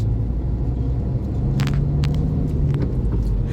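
A large lorry moves along a road with a steady low engine rumble and road noise throughout, close and fairly loud, with no voices.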